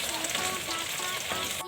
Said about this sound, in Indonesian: Goreng tempe menggunakan teknik dip kayu.